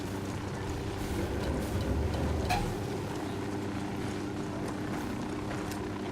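A helicopter in the video game Ghost Recon Wildlands throbs with a steady low rotor chop and engine drone, loud and continuous, swelling briefly near the start before holding level.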